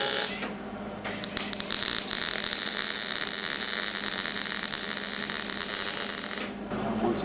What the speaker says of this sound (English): I'm going to pull this back out and do a full weld on it